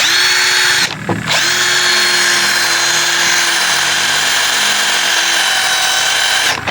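A cordless 3-in-1 drill whirs loudly and steadily at close range, stopping briefly near the start and then running on continuously, with no one talking.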